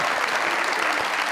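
A studio audience at a comedy talk show bursts into dense, continuous clapping that stays loud and even throughout the short moment, with no voices on top.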